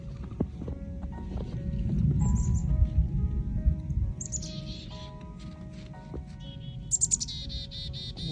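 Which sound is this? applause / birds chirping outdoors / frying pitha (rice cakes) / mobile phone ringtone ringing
birds chirping outdoors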